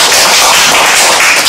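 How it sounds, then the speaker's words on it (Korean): Audience clapping in a school hall, dense continuous applause with no gaps, loud and close throughout the short stretch. "박수 한번 쳐주셔야 돼요"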